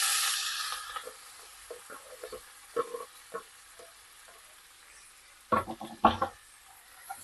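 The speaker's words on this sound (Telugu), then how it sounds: "ఆనియన్ కట్ చేసి పెట్టుకున్నా అవి నేను ఇప్పుడు యాడ్ చేసేస్తున్నా" Chopped onions go into a hot pan with fried egg, chilli and curry leaves for a prawn and egg curry. A bright hiss opens, then scattered crackles and pops follow, ending in two louder sizzling bursts as the pan is stirred.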